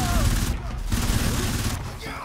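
Heavy, sustained gunfire fills a firefight in the video game Crysis: Warhead, loud and continuous throughout, with a player talking over it.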